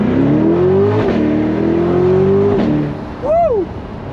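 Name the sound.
Chevrolet Corvette Stingray C8 V8 engine accelerating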